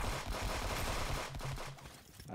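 Rapid automatic fire from a turret in a shooter video game, a continuous rattling burst of closely spaced shots that runs nearly throughout, then thins out toward the end.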